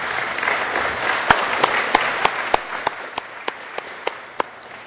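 Scattered applause from a small group at a press conference, with distinct sharp claps picking up and repeating at a quick, uneven pace over a soft background murmur.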